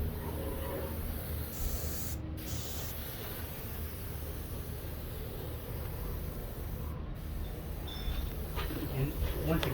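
Spray gun with a fine finish tip applying Messmer's UV Plus finish to a Brazilian Cumaru deck from about eight inches away, a steady continuous hiss running the whole time with two brief breaks.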